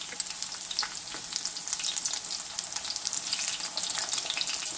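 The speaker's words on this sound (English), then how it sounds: "I got the pan at a medium high. We're going to let these cook about 2 minutes each on each side" Panko-coated shrimp fry in a pan over medium-high heat, producing a close, bright, steady sizzle with dense popping and crackling throughout.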